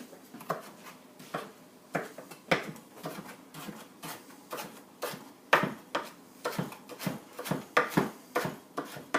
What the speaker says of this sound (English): I'm just going to use our knife and cut them into shorter pieces